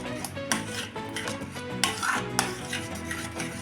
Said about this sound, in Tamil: கைவிடாமல் கட்டியாக வர வரைக்கும் கிண்டி விடுங்க